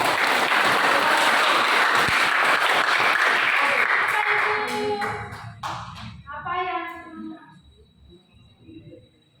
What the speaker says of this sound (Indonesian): Ya, kita berikan aplaus.